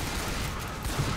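Shotgun blasts from the zombie shooter game Left 4 Dead 2 merge into a dense, continuous roar of gunfire, with no gaps between shots across the short burst.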